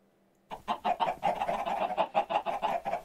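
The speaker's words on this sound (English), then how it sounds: "I can hear the chicken." Minecraft chicken clucking in a video game, a quick rhythmic run of about a dozen clucks after a brief quiet start, steady and close with no talk.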